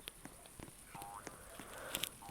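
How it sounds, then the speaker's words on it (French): A frog croaks in the forest of the game 99 Nights in the Forest, with short repeated croaks over low ambient crackle and faint background sounds. "J'ai fait l'erreur d'attirer une grenouille."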